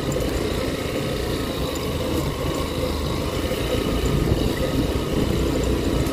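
A motorcycle rides through a narrow residential lane between houses, its engine a steady, close, mid-pitched drone that holds at an even level throughout with only slight swells, with no voices.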